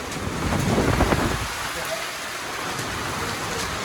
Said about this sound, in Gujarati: બધી બાજુ એવો ને એવો વરસે હે આવ ગાંડો નવા થયો વાવાઝોડું એવું હે જોઈ લે